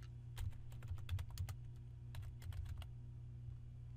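Computer keyboard typing in quick bursts of crisp key clicks, a dense flurry followed by a shorter run, over a steady low hum with no talk.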